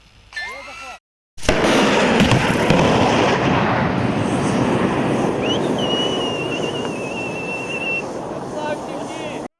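A loud roaring anti-aircraft missile launch during a military exercise on Snake Island blasts out and holds, with a rising whistle from the rocket as it climbs away, after excited shouting.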